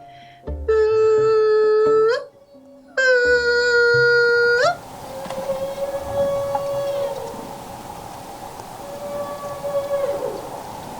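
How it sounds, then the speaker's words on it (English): Humpback whale feeding call used to herd Pacific herring toward the surface: two long, loud, rising tonal wails with sharp upward endings, followed by a sustained quieter moaning tone over ocean noise. "So the whales use this sound to push the fish towards the surface of the water."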